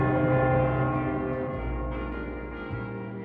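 A sustained, ringing chime with rich overtones sounds alone and decays slowly, like a deep doorbell tone echoing in a large space.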